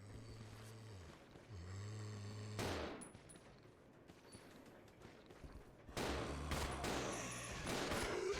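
Gunfire in the video game Resident Evil 0, heard as bursts of rapid shots in two main clusters, with a hum and game tones between them and a quieter stretch in the middle.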